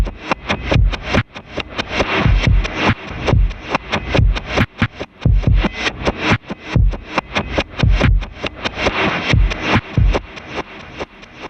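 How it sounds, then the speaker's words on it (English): Reversed acoustic drum kit hits swell rhythmically over a lo-fi filtered kick and snare, forming a steady looping beat that plays on its own without any voices. "Underneath them, I have this lo-fi filtered out kick and snare."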